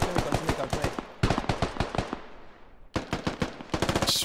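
Rapid automatic gunfire in the video game SquadOps, heard as three loud, close bursts of fast shots separated by short pauses, with no talking.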